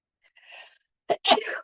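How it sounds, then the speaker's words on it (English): A soft breathy intake, a pause, then a sharp double sneeze burst, close and fairly loud. "I'm going to sneeze."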